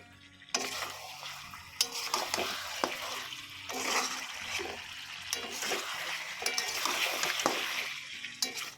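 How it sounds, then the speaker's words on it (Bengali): Meat being sautéed and stirred in a pan, with steady sizzling and repeated spoon scrapes and clacks against the pot, close and continuous over several seconds with no talking. "আমি এখন মাংসটাকে কষাচ্ছি"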